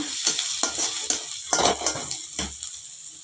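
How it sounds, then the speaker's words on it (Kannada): Onions fry in a pan under a close, steady sizzle while a spatula stirs them with repeated scraping strokes and light clinks against the metal. "ಚೆನ್ನಾಗೆ ಈರುಳ್ಳಿ ಫ್ರೈ ಆಗಿದೆ"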